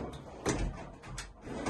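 Heavy-duty toolbox drawers slide and thud shut in a few quick, fairly close movements, each a short rolling swish ending in a soft knock.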